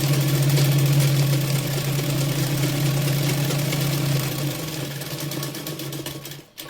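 A sewing machine stitches the folded lining of a blouse, a steady close mechanical hum and whir running continuously before slowing and stopping briefly near the end.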